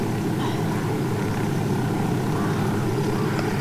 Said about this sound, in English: We have another chopper here